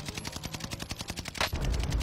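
Rapid automatic gunfire in Call of Duty: Warzone, a fast even string of close, loud shots lasting over a second, followed by a heavier rumbling burst.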